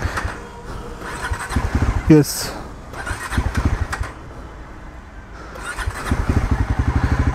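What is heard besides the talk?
motorcycle engine starting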